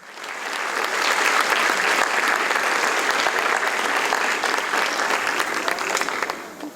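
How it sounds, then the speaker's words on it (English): Sustained applause from an audience at a book launch, steady and fairly loud throughout, with dense clapping that neither builds nor fades much. "Let's welcome Supreme Master Chin Hai with a round of applause."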